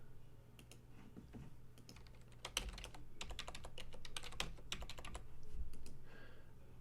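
Fingers tap out a password on a computer keyboard, a quick irregular patter of close, crisp key clicks over a faint steady hum, with no talk.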